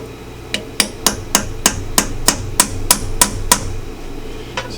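Eleven evenly spaced metal-on-metal hammer blows on a flat punch driving a starter clutch bearing on a 2009-2014 Can-Am Spyder RS, loud and close with a steady rhythm, then one last lighter tap after a pause.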